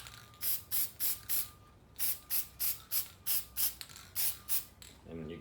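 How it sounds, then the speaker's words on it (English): Thick oil sprayed from an aerosol can onto the air filter of an Exmark Metro 36 mower, about a dozen short hissing bursts in two quick runs, close and clear. "Just spray a little bit on here."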